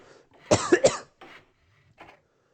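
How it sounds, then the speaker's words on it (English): A few sharp coughs in a quick double burst, then two fainter follow-up coughs, close and alone with no talk. "now I'm coughing up a storm"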